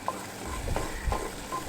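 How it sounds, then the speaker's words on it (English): Okra stirred in a hot pan: a continuous low sizzle with soft scraping strokes of the spoon repeating at an even pace, close and fairly quiet. "So just keep stirring this till you see all that slime come out."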